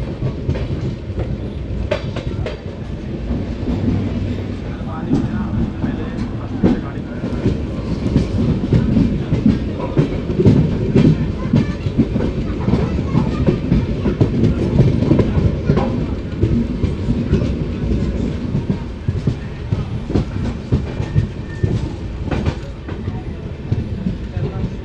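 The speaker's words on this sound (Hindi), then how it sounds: "करीब 4:20 पे हमारी ट्रेन कणकावली स्टेशन में अराइवल ले रही है" Mangla Lakshadweep Express running on the Konkan Railway in Maharashtra, a steady loud rumble with rhythmic clickety-clack of wheels on rail joints throughout, heard from on board.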